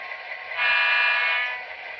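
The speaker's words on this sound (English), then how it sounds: "the third one I want to show you here in my collection, which is running right now, is my Santa Fe diesel. It has sounds." An HO scale Santa Fe diesel model locomotive sounding its horn from its sound system, a bright sustained tonal blast swelling for about a second over quiet motor hum, close and alone.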